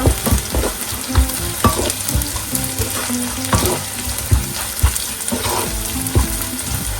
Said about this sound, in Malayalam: ഇനി നമുക്ക് പച്ചമുളക് ചേർത്ത് കൊടുക്കാം. നന്നായിട്ട് ഇളക്കുക.